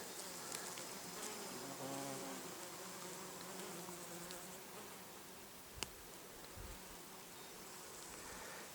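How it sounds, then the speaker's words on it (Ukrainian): A bee buzzes steadily among oregano flowers outdoors, a soft continuous drone with a faint ambient hum and one brief click partway through. "Материнка шевелиться від бджоли."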